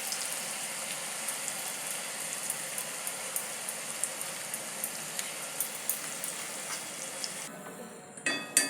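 Gram flour batter frying in hot oil for chanachur, a steady dense sizzle with regular small pops throughout, close up, ending in a few louder clatters.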